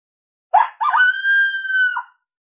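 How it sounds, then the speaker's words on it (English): One short female coyote howl from the Boss Coyote Mayhem Pak: a brief yip, then a rolling rise into a steady held tone that bends down at the end, loud and alone. "It's a shorter howl, but kind of in the middle there"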